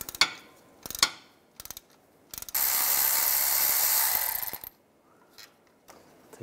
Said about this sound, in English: Use the E14 socket, take this bolt out right here.